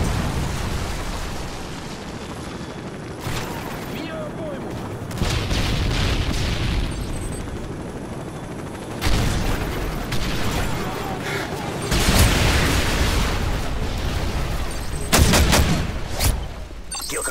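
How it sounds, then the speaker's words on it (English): Predator missile strikes in Modern Warfare 3 land as a series of heavy booms, roughly four blasts spaced a few seconds apart, rising out of a constant rumble of battle noise. "Friendly Predator missile inbound."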